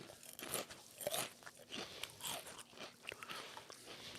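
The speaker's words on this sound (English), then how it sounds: "You should be able to hear it if you chew into the mic." Someone chews a crunchy sweet, salty, spicy snack right against the mic: steady, quiet crisp bites and crunches that repeat irregularly with no talking.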